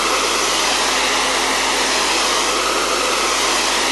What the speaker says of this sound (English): I'm going to blow dry over that once more